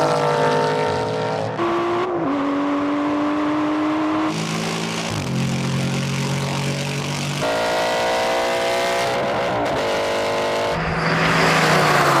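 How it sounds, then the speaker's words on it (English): Racing car accelerating hard in a drag race against an Aston Martin, its engine note climbing through several gear changes with brief shift dips, loud and continuous throughout with no voices. "Can I catch up with the racing car?"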